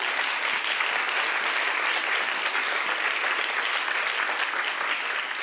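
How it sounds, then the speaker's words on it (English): Steady audience applause fills a pitch event hall, dense and even from start to finish with no break, a crowd clapping together at close range. "Now you can applaud."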